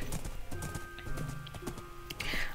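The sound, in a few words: horse hooves in the video game Minecraft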